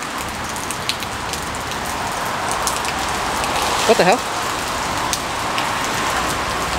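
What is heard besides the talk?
rain falling outdoors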